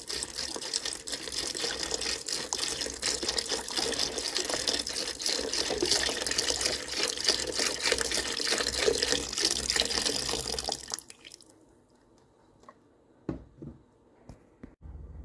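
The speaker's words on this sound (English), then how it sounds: "I've got an unsalted chicken broth here, and I've got a quart, so we're adding 4 cups of chicken broth." Four cups of unsalted chicken broth pour from a quart carton into a Ninja Speedi cooker, a steady liquid stream lasting about eleven seconds before stopping, followed by a few faint knocks.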